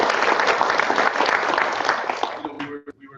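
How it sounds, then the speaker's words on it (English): An audience at a hackathon demo and judging day claps in a dense, steady burst of applause that tapers and thins out toward the end. "Give yourselves a round of applause."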